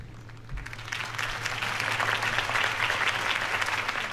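Crowd applause in a Batman: The Telltale Series video game scene at a political campaign rally, swelling from moderate clapping into a loud, dense ovation that continues to the end.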